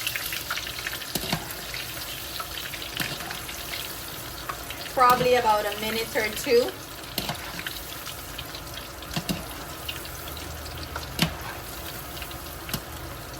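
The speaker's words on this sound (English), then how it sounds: "I'm gonna go ahead and add my lamb pieces. And you're quickly gonna flash fry this." Steady sizzling of lamb pieces flash frying in hot oil, with a brief burst of louder crackling partway through and a voice speaking briefly.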